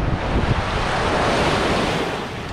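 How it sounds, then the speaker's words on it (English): Waves breaking steadily on a sandy Great Lakes beach, a continuous loud rush of freshwater surf with gusting wind noise across the microphone and no voices. "it's crazy that you have beach and waves and sand"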